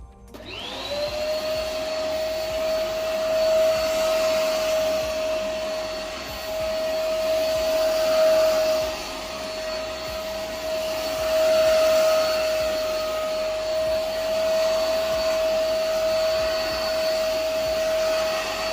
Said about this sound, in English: see how well it vacuums this way